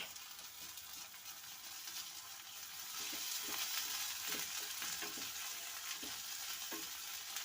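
Ginger garlic paste fries in a pan with a steady broadband sizzle, broken by light scraping stirs that come more often midway, while the frying grows a little louder and carries on alone for a Telugu liver and amaranth curry.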